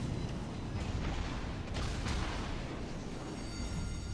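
A USS Texas battleship fires its main guns in World of Warships: Legends, with a low rumbling boom and mechanical creaks over a steady wash of naval battle noise, and no voices.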